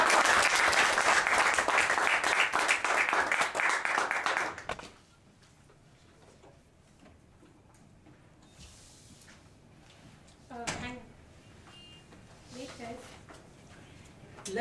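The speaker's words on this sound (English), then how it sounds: "please have a big round of applause for Kunal" Audience applause and clapping for a speaker being welcomed on stage, loud and sustained for about five seconds, then cutting off abruptly into a quiet room with faint scattered noises.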